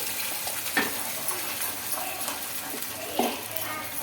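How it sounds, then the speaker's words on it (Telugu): A ground mixie paste fries in hot oil in a pan with curry leaves for an egg and junnu curry, a steady close sizzle with occasional stirring scrapes and light clinks. "తర్వాత ఇంకా మిక్సీ పట్టుకున్న పేస్ట్ అయితే వేసుకోవాలండి"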